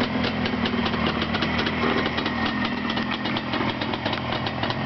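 An engine runs on a test stand, a loud steady idle with a fast regular knocking pulse and no voices.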